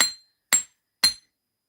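Three evenly spaced metallic strikes of a hammer on jewelry wire, each a bright ringing tap about half a second apart, close and clear against silence.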